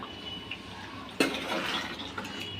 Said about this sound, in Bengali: এখন আমি দিয়ে দেব সিমের বিচিগুলো ধুয়ে পরিষ্কার করে নিলাম